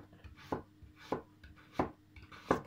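Knife chopping cucumbers on a board for okroshka, a cold Russian kefir soup: four sharp, evenly spaced chops, close and clear, with no talking.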